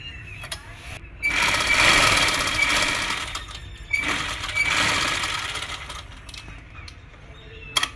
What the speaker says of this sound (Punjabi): ਸਭ ਤੋਂ ਪਹਿਲਾਂ ਜਿਹੜੇ ਹੈਗਾ ਆਪਾਂ ਤੀਰੇ ਜੋੜਾਂਗੇ ਆ ਦੇਖੋ ਤੀਰੇ ਦੀ ਸਲਾਈ ਲਾ ਲਾਂਗੇ